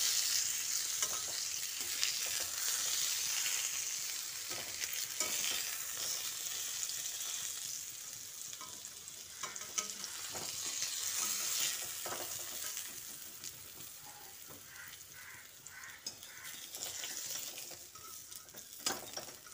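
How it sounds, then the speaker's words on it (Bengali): Pointed gourd (potol) fries in oil in a kadai until lightly coloured, with a steady crackling sizzle and frequent stirring scrapes that fade and then swell again. "পটলের গায়ে হালকা কালার ধরিয়ে ভেজে পটলগুলোকে তুলে নিচ্ছি"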